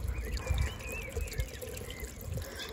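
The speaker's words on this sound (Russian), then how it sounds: "Здесь остался такой фонтанчик." Water trickles and pours steadily from a Soviet-style public drinking fountain near a beach, a soft, low continuous splashing with faint background noise and no speech.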